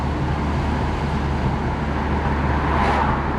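A Volvo 244 GL with an engine fault, apparently a vacuum problem, drives along with a steady, loud interior engine and road rumble and no clear talking.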